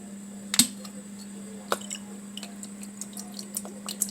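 Worcestershire sauce drips and splashes onto a beef roast in a few faint, scattered liquid spatters over a steady background hum.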